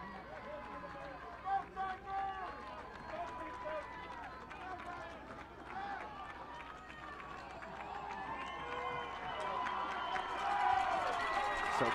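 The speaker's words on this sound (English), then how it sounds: "So crowd making noise here again." A football crowd at a high school playoff game between Veterans Memorial and the McAllen Bulldogs, a steady distant murmur with scattered cheers rising toward the end, with an announcer talking over it.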